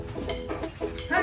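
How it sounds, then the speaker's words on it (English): Several hens cluck inside a closed-up homestead coop where the flock has been moved indoors, short overlapping calls coming in a few bursts close by. "Hi, chickens."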